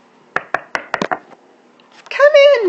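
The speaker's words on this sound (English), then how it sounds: "She knocked on the door." Several sharp, separate knocks on a wooden door of a cottage in the woods ring out close by, followed by a brief high voice.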